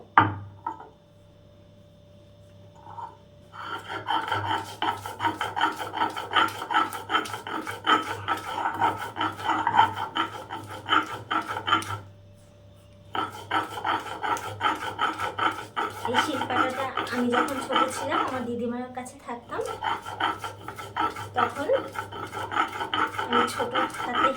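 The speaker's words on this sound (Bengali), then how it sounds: "আজকে শিল্পাটা বেটে তোমাদের সাথে শেয়ার করছি এই পেঁয়াজটা আমি একটু একটা বাটা দিয়ে নেবো" Onion is ground by hand on a grandmother's shil-pata stone, a close, continuous gritty rasping in rapid back-and-forth strokes with a short pause midway, and a voice speaks briefly over it.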